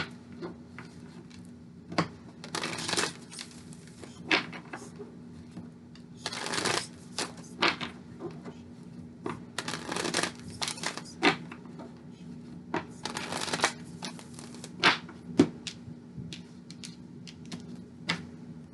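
Tarot cards are shuffled in repeated bursts of crisp riffling and slapping, close and fairly quiet, with short pauses between the shuffles.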